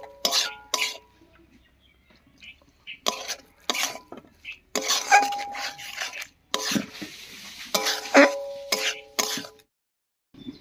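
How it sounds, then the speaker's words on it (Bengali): Atap rice flour batter mixed with water for cauliflower-stalk fritters: a spoon or whisk scrapes and knocks against the bowl in short, uneven bursts separated by quiet gaps. "এবার একটু করে জল দেবো আর মেশাবো।"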